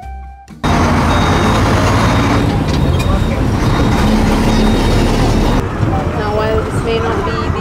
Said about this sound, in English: the cheapest way, but definitely the biggest experience of getting around Colombo or anywhere on the island, is the local bus system.